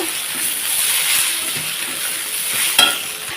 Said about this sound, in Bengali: এগুলো দিয়ে এখন ভালোভাবে একটু ভাজা ভাজা করে নাড়াচাড়া করে নেব